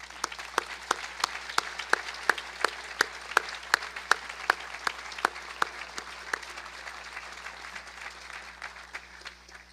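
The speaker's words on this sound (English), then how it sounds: "join me in giving the parents and grandparents here a round of applause" A round of applause from a commencement audience for parents and grandparents: a steady train of sharp, evenly spaced claps over a soft crowd patter, fading toward the end.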